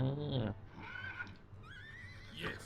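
A horse in the Battle Realms video game gives a loud, close whinny at the start, followed by softer, higher neighing cries later on.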